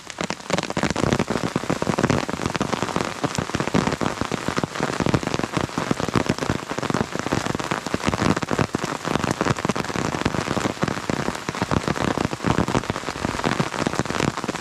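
Heavy rainy-season downpour on a mountaintop, a dense, steady roar of drops beating on surfaces without letup, loud and close, with no voices.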